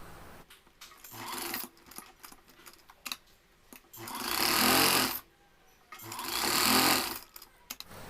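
A sewing machine stitching puff sleeve fabric, with short clicky handling noises and scattered taps between two sustained whirring runs of about a second and a half each, close and moderately loud.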